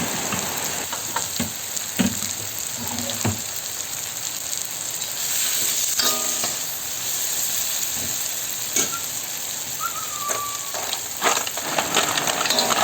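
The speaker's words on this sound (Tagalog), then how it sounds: "Maglagay na rin tayo ng tanglad o lemongrass. Lutuin lang natin ang lemongrass." Lemongrass sizzling in a hot pan while a mussels dish is being cooked, a steady bright frying hiss with small crackles and occasional clinks of a utensil, close and continuous with no talking.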